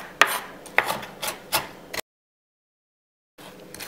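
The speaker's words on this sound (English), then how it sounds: "I find it a lot easier just to cut it with a knife" Knife cutting ingredients for no-bake mini cheesecakes on a board, a few sharp, close chops spaced about every half second, then a gap of silence before faint rustling resumes.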